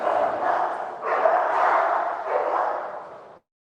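Dogs barking and fighting, a loud near continuous flurry of snarling barks and yelps in three surging bursts before cutting off abruptly.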